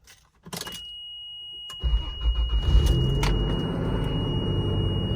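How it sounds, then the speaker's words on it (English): Cold start of a 1994 Toyota Land Cruiser: a brief click and cranking, then the engine catches and settles into a steady loud idle rumble with a thin whine above it. "About to do a cold start here."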